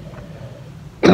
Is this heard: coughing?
yes